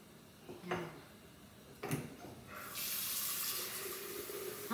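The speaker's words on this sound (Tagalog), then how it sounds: "Lagyan ko ng tubig." Water pours steadily into a vase of roses, a soft rushing stream rising after a couple of faint clicks, quiet and close.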